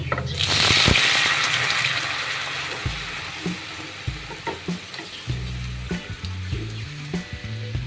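Masoor dal lentils tipped into a pan of lightly browned fried onion and garlic burst into a loud sizzle, which settles into quieter bubbling broken by intermittent scraping and stirring knocks.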